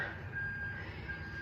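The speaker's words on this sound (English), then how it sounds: "I think that's a bin lorry outside" A bin lorry reverses outside, its beeping heard as a faint, steady tone behind a low rumble of background noise.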